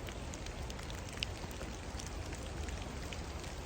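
Steady rain falls outdoors, a continuous even patter of drops with an occasional nearer plink, moderately loud with no talk.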